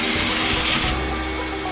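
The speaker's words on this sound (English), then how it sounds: "I just made the vacuum swallow a whole penny." A vacuum cleaner roars loudly and steadily as it sucks up a penny, the harsh continuous whoosh broken by a brief rattling burst.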